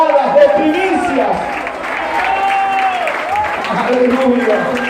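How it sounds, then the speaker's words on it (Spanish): A church congregation applauds steadily in a loud sustained wash of clapping, with a voice speaking over it and crowd noise throughout. "Denle fuertes aplausos al Señor."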